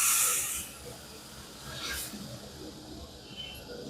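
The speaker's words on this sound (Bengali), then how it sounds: "এবার আমরা এতে জল দিয়ে দেবো। হুম। এই জলটা সবটাই দিয়ে দেবো।" Water is poured into a frying Bengali bata fish curry with potato, setting off a loud sizzling hiss at the start that fades, then flares again briefly around two seconds before settling into a softer bubbling hiss.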